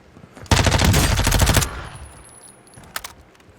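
Rapid automatic gunfire in Call of Duty Warzone, a loud close burst of about a second with dense rapid shots, followed by quieter scattered distant shots and a couple of sharp single reports.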